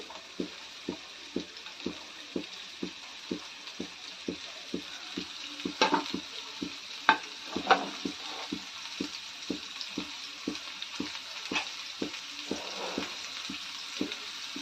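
Garlic cloves frying in hot oil give a steady close sizzle, marked by a regular run of sharp clicking pops about every half second, with a few louder crackles in the middle.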